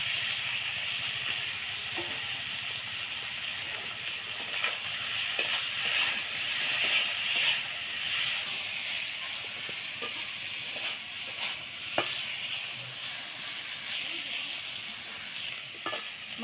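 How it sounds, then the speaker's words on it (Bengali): Dried river fish frying in hot oil, a continuous close sizzle and hiss with occasional crackles and stirring clicks, no talk. "তেলটা গরম হয়ে গেছে, মাছটা দিয়ে দেবো।"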